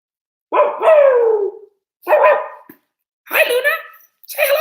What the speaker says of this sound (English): A lovely little pet dog. Now she can bark like me.